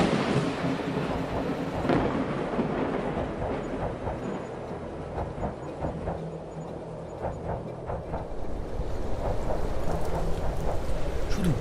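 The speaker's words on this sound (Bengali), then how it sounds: "কড়কড় করে বাজ ডেকে উঠল" Thunder rumbles and cracks through a rainstorm, with a dense rush of rain and several sharp bursts over a sustained roaring wash, loud and close.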